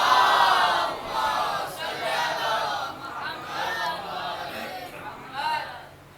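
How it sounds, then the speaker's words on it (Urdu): A mourning congregation at a Safar majlis recites salawat at full volume in unison, a loud massed chant of voices rising and falling in several surges. "بلند ترین صلوات پڑھ دیں محمد والے محمد پر"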